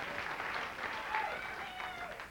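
Dense, sustained applause from a large studio audience at a 1991 TV special, a steady wash of many hands clapping without a break.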